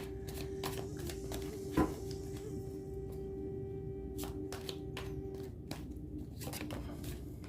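Tarot cards are shuffled in soft, crisp riffles and flicks, coming in brief irregular bursts over a quiet steady hum, with one sharper tap early on.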